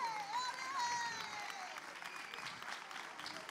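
An audience applauds at a children's carnival in Almería, steady clapping with crowd murmur mixed in, fairly distant and moderately loud throughout.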